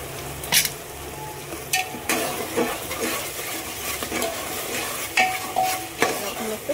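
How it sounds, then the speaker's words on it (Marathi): Onion, tomato and ginger-garlic paste sizzle steadily in a pan, with a spoon stirring and scraping at intervals and occasional sharp clinks against the metal. "आपण आता कांदा टॅमॅटो आलं लसणाची पेस्ट टाकली होती, शिजून घेतोय."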